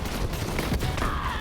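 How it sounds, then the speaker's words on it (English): Shotgun fire in the video game Borderlands 3 comes as a dense, continuous rattle of gunfire and combat noise at moderate level, with no clearly separated individual blasts. "Nice range on that shotgun."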